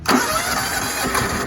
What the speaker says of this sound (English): let's start this sucker up